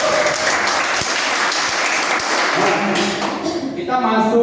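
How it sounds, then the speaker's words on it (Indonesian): Teachers and staff in a school training session give a dense, loud round of applause lasting several seconds, thinning out as a voice begins speaking at the end. "Tepuk tangan untuk kita semua."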